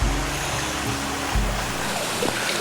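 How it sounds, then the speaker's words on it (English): Stream water flowing through a small wood beside the Cumbria Way between Coniston and Langdale, a steady close rushing wash with low rumble, continuous and unbroken by talk. "you can hear the water around me"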